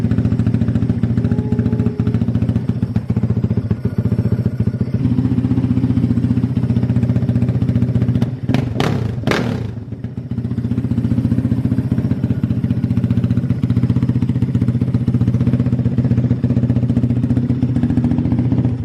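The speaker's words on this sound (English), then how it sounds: "so let's start it up. Primed up. Let's see how it starts on the cold start," A Kawasaki KFX450R quad fires up from cold and settles into a steady, throbbing idle, loud and close, with a short sputtering dip partway through and no talk.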